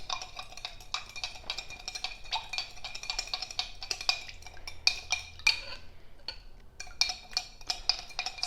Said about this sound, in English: Now we stir until dissolved.